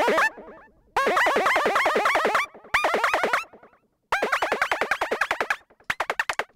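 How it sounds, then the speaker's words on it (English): A synth patch in Massive plays a stuttering run of rapid repeating pitched blips whose pitch envelope sweeps them upward, in several loud bursts separated by brief gaps, with no talking. "Kind of a cool riser effect,"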